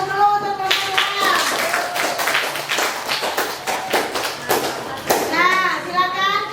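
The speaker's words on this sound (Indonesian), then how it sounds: "Kita kasih aplaus dulu untuk kelompok 2" Children in a classroom applauding a student group, loud dense clapping with excited kids' voices and shouts mixed throughout, close and lively.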